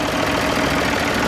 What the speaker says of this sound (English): it's a 3-cylinder BMC engine